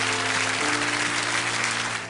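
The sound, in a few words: applause at church service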